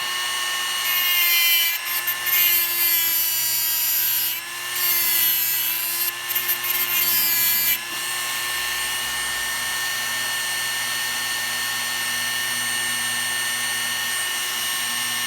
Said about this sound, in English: I'll cut like a groove on both ends.